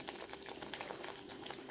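Green pepper kuzhambu curry bubbling in a pot, a soft, steady boil with continuous popping bursts, faint and alone.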